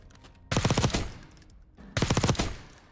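Two sharp bursts of rapid automatic fire from an assault rifle at a Black Ops 6 firing range, each lasting about half a second and separated by a brief pause, loud and close.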